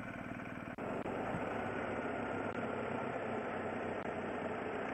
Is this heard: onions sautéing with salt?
no